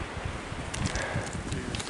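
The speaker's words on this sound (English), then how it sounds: "People, it's so windy." Steady broadband wind noise buffets the microphone throughout, a continuous rough rumble with gusty swells and no voices.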